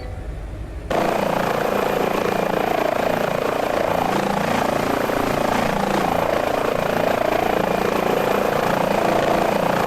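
HPG H145 helicopter in Microsoft Flight Simulator spooling up on engine start: a loud, steady turbine whine and rotor roar that jumps in abruptly after a brief quieter moment and holds dense and constant.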